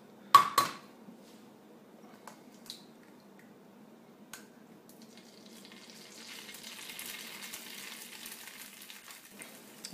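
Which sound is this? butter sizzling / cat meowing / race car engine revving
butter sizzling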